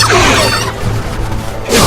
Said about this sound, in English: Just throw chickens at me?